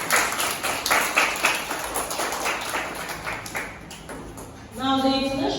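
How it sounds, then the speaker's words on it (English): Children at a Montessori school celebration for the International Day of the Girl Child give a round of applause, a fairly close, steady patter of many hands that fades briefly before a chime-like tone rings out near the end. "A round of applause for yourselves."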